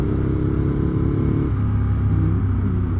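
Aprilia RSV 1000 10th Anniversary Edition, a 1000cc sport motorcycle, riding along a twisting road: a steady, loud engine drone with a low rumble throughout, shifting in pitch slightly midway as the bike eases through corners.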